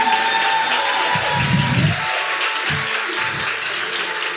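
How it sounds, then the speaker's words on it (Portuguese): Applause for church youth at a conference, a steady broadband wash of clapping that runs unbroken through the whole stretch at moderate level, with a few low thumps underneath. "Eu queria honrar eles com uma salva de palmas,"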